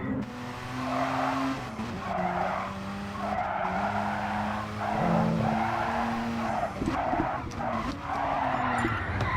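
Mazda RX-7 tires squealing through repeated slides while drifting in a racing video game, a loud engine drone with wavering pitch and bursts of skid noise, commentators talking faintly underneath.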